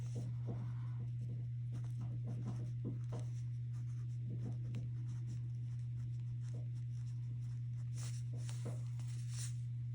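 Pen strokes scratching across a paper check, a soft irregular scribble of short strokes close by over a steady low hum.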